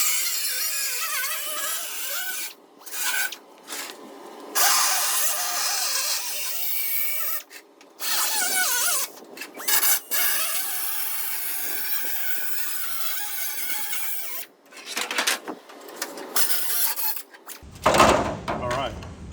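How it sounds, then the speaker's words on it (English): A cutting tool works through a rusted panel on a 1923 Model T body in harsh, grinding bursts separated by short pauses, loud and close. "I'll just cut this panel out and weld it back together."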